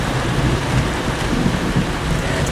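Thunder from a lightning strike rolls through a Florida storm, a dense, continuous low rumble mixed with steady rain noise, with no voices.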